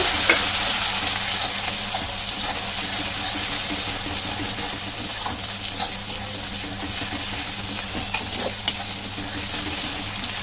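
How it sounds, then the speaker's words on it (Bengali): Chopped tomato stir-fries with ginger garlic paste for a pangas fish curry, giving a steady close sizzle with repeated scraping and stirring strokes throughout. "টমেটো কুচিয়ে নিয়েছিলাম তো সেটা আমি দিয়ে দিয়ে দিলাম দিয়ে আমি ভালো করে কষাতে থাকবো"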